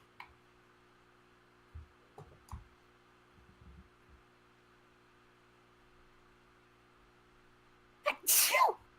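A single sharp sneeze erupts near the end during a quiet tabletop roleplaying game session, after a few faint scattered bumps against a low steady room hum.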